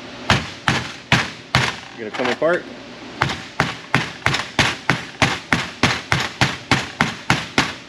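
Repeated sharp metallic hammer blows on a metal case from a Pontiac Firebird in a steady rhythm, about two per second, with a brief pause where someone speaks a few words.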